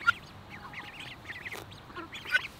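Ducks quacking outdoors near grass, a scattered run of short nasal calls at moderate distance, with no talk over them.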